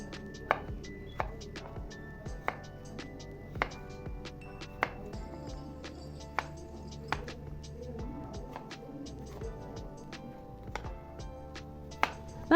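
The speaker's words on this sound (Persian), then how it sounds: "4 تا سیب زمینی رو پوست میگیریم و خوردش میکنیم" Four peeled potatoes are cut with a knife in a home kitchen. Quiet, fairly regular sharp taps of the blade hit the cutting board, with soft clinks between them and no talking.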